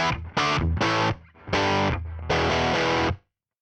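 Dry electric guitar with the echo pedal switched off, four distorted chords strummed one after another, loud and close, with short gaps between them and clean stops with no trailing repeats.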